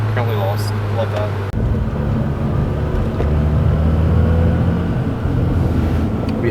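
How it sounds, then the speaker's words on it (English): Loud, continuous roar of passing vehicles and engines close by on a New York City street, with voices talking over the traffic noise. "We have your regular street traffic here."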